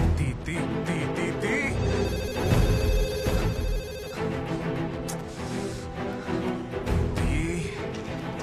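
A phone rings for an incoming call with a repeating electronic ringtone pattern that carries on steadily for several seconds over a busy background.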